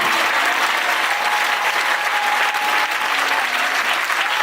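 A congregation applauding during a church deliverance service, loud sustained clapping from a large crowd that holds steady and full across the whole stretch, with a faint voice underneath.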